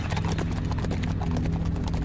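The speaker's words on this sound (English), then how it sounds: "they galloped off toward Shaolin" Several horses gallop at speed, their rapid clip-clopping hooves steady and close, with a faint whinny under the pounding rhythm and no talking.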